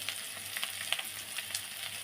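Potato and spinach sizzle quietly in a frying pan, a soft, even hiss dotted with small crackles and pops, heard alone without speech.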